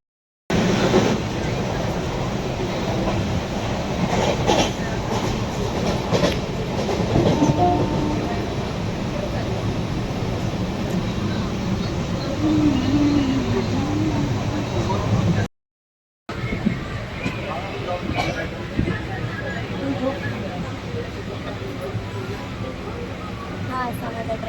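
Riding inside a moving passenger train, a steady close rumble of wheels and carriage with occasional rattles and clacks, cut by a brief silent gap before the rolling noise resumes.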